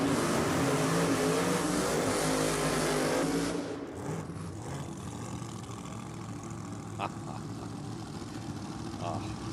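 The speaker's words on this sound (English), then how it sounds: "I miss that sound of the blown motor." A supercharged small-block V8 in a Torana drag car on slicks roars loudly and close for the first few seconds, then fades to a more distant engine rumble under crowd and track noise.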